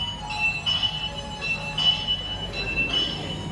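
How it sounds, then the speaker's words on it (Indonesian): Blambangan Express passenger train passing through a station, a continuous rumble of rolling wagons with repeated high metallic wheel squeals in a regular rhythm, fairly close, with no talking. "ini kereta Belambangan Express Blamex"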